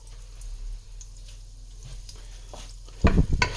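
Freekeh being fried and stirred in a pan of hot butter and oil, a steady low sizzle with faint scraping that swells into louder, busier stirring near the end.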